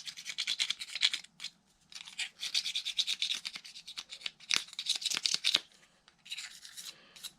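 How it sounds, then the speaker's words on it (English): A dulled blade rubbed back and forth across sandpaper, close rasping scratchy strokes in quick rhythmic bursts separated by short pauses, with no talk. "I'll run it across some sandpaper."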